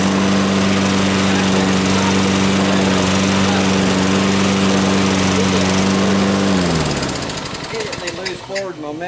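A Black & Decker cordless battery-powered electric lawn mower runs with a loud, steady motor whine and hum, then winds down in pitch and fades near the end.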